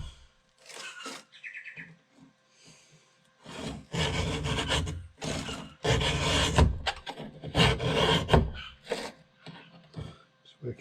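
A chainsaw chain being hand-sharpened with a file in a workshop, heard as bursts of rough rasping strokes, loud and close, separated by short pauses, with faint bird chirps in the gaps.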